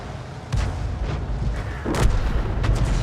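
An artillery shell is fired and strikes a tank in a tank video game, a run of heavy booming blasts with a strong low rumble and a loud impact near the middle, up close and dominant.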